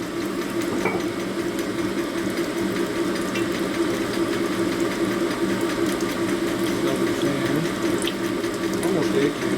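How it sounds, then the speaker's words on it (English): Water hisses and gurgles steadily over a low mechanical hum while a Harley shovelhead motor is being rebuilt, a continuous close wash of sound with no clear breaks. "That's just water making noise"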